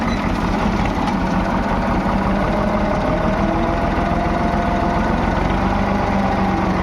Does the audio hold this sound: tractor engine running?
yes